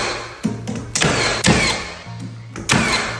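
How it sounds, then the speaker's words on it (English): A nail gun shoots nails into the jamb of an interior prehung door during installation, with four sharp, loud pneumatic bangs at irregular intervals over a low compressor-like hum. "I like to kind of hold my jamb in the middle and shoot nails just for support and holding."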